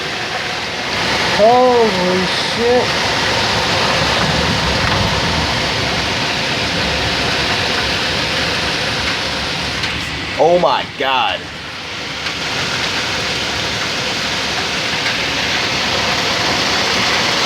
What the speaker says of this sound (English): It's marble-sized hail.